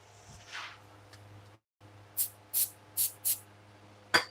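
Four quick, sharp pumps of an Affix brand CA glue activator spray bottle, evenly spaced about half a second apart, close and crisp, during pen turning, followed by a brief click.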